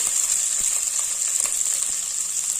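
Onion and green chilli frying in a pan over a medium flame, a dense, even close sizzle that holds steady throughout, with faint stirring taps now and then.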